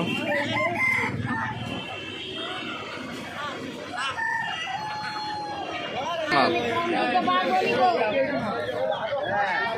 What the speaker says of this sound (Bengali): এপাশে মুরগি, এপাশটায় হাঁস রয়েছে দেখতেই পাচ্ছ।